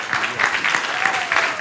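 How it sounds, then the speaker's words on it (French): At a film club screening of La Pirogue, the audience gives director Moussa Touré a brief, loud burst of clapping, with a faint tonal sound running under it partway through. "Veuillez applaudir une fois de plus."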